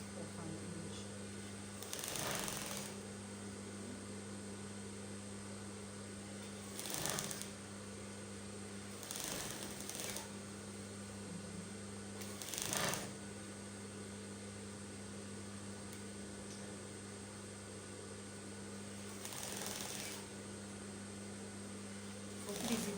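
A home sewing machine stitches a half-inch seam on a shift dress in several short bursts separated by pauses, set against a constant low mains hum and quiet room noise.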